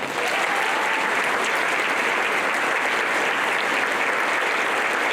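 An audience at a Teacher of the Year Golden Apple 2023 event applauds to welcome teacher Sandy Sansing, dense sustained clapping from a crowd filling the room at even loudness throughout.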